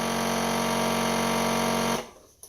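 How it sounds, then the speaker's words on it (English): A FoodSaver vacuum sealer motor pulls air out of a container with a loud, steady mechanical whine and hum that cuts off abruptly near the end, followed by a faint click. "it takes a little bit to suck all the air out of this container. And that's that sound where it's changing"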